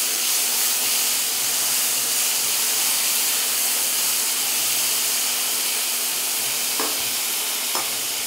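Onion and halved green chilli frying in oil, a steady dense sizzle holding loud and even throughout, with a couple of sharp clinks of a utensil near the end.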